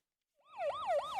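A South Korean 119 ambulance siren swells in quickly and then wails in fast rising-and-falling sweeps, fairly close and clear, with no voices.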